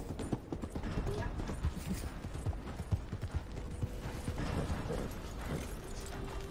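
Horse hooves clip-clop steadily on a path in the Red Dead Online video game, a brisk continuous rhythm mixed into a dense bed of game sound and ambience.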